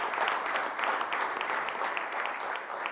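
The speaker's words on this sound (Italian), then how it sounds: "allora un applauso a te e a tutto lo spogliatoio." Steady applause fills the room without a break, many hands clapping at a fairly close distance after praise for a football team's locker room.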